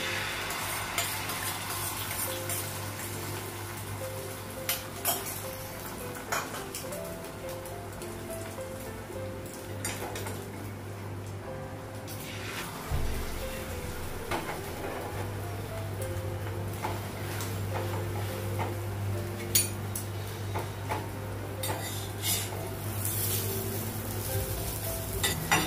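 An egg fries in a hot wok, a steady, dense sizzle and crackle that runs throughout at moderate level, with a brief dip midway and no talking over it.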